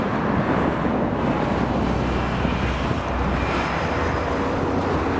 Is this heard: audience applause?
no